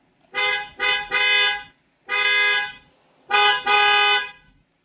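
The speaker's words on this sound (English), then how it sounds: "so nice to have a working horn again." Close, loud honks from a newly replaced car horn on a Hyundai Ioniq 6: one short toot, then a longer honk, a steady blast, and a final double honk, each clean and tonal with short gaps between them.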